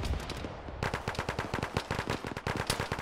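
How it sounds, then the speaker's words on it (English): Rapid machine-gun bursts and scattered gunshots in an Arma video game battle, loud and nearly continuous, fast repeated cracks in a dense, rhythmic stream. "Oh, I'm taking a lot of fire."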